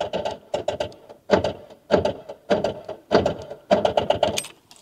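Repeated bursts of a starter cranking a seized Rover 800 engine, abandoned for 15 years, about seven strained cycles in a steady rhythm, loud and close with short pauses between.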